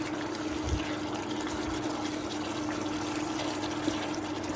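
Spaghetti meatball sauce simmering in a pan, giving a steady low bubbling and gurgling with a faint constant hum, close and continuous with no talk.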